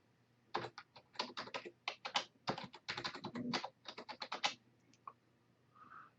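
Fingers tapping out a password at a Linux login prompt on a computer keyboard: a fast run of crisp, close keystrokes in uneven clusters, then a couple of isolated taps and quiet.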